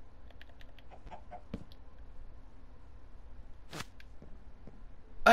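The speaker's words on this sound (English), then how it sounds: "Got a house chicken now." A house chicken clucks indoors in several short, soft bursts spread across the clip, with a few sharper clicks and a louder thump near the end over quiet room noise.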